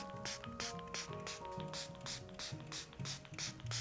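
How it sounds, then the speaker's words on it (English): Rapid bursts of a spray bottle spritzing water onto leather close by, one quick hiss after another, mixed with light clicking from the trigger. "I have a spray bottle, just so I can spray down all the surfaces that I want to carve on."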